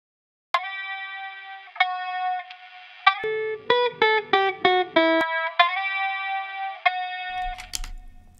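A processed electric guitar loop with distorted, reverberant plucked notes: sustained chords, then a run of short staccato stabs, then sustained chords again.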